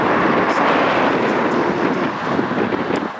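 A distant Aegean airliner taxiing at Heathrow Airport gives a steady, broad roar of engine noise mixed with heavy wind buffeting the microphone in strong wind.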